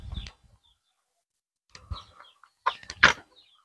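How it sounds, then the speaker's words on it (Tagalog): Native chickens and a rooster on a farm give scattered clucks and short calls in brief bursts, with quiet gaps between them, close and moderately loud. "Tandang pala yan. Malaki na din."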